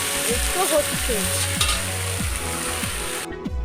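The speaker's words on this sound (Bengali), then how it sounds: "আমার তো দেখো ফুলকপিগুলো কিন্তু খুব সুন্দর করে ভাজা হচ্ছে" Cauliflower pieces fry in a pan with a steady, close sizzle, stirred by a spatula that scrapes and clinks at intervals.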